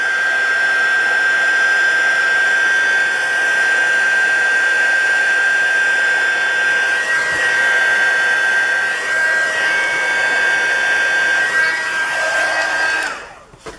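A heat embossing tool blows hot air over embossing powder on a stamped card with a vintage leaves design. Its steady, close fan whine with a high tonal hum runs unbroken for about thirteen seconds, then switches off.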